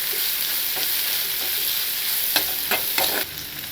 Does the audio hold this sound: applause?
no